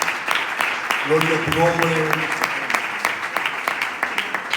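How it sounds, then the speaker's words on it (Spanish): A church congregation claps steadily in rhythmic applause for the Lord while a voice sings a short phrase over it. "vamos a dar un fuerte aplauso al Señor"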